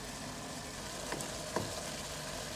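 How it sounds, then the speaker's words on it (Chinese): Garlic shrimp sauce sizzles steadily in an uncovered pan as it reduces, a dense even frying hiss with a couple of faint clicks from a utensil. "现在咱们掀开锅盖呢，让它收一下汁。"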